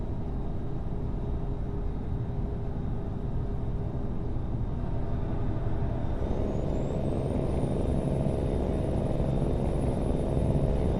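A steady engine drone from a lorry in a truck driving video game, with a faint high whine rising partway through and holding to the end; it stays even and loud throughout, with no talk.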